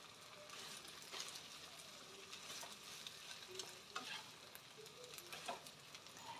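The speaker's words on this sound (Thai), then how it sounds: "ใส่ข้าวลงไปเลยนะคะ พี่น้อง ใส่ข้าวลงไปเลยนะ" Rice for shrimp fried rice hisses and sizzles in a hot pan as it is stir-fried. A spatula scrapes and clinks at irregular moments over a continuous frying crackle, faint and without talk.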